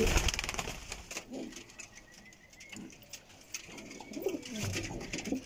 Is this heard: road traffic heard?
no